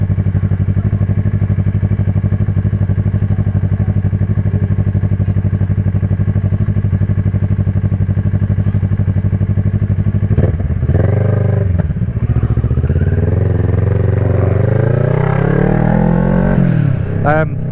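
A motorcycle idles loudly and steadily nearby, then is revved in a few rising and falling bursts before settling back.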